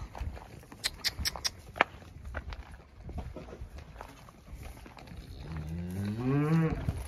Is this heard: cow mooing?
yes